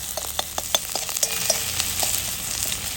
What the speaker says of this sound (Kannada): ಇದನ್ನ ಫ್ರೈ ಮಾಡ್ಕೋದ್ರಿ ಈಗ ಸ್ವಲ್ಪ ಗೋಲ್ಡನ್ ಆಗುತ್ತಕ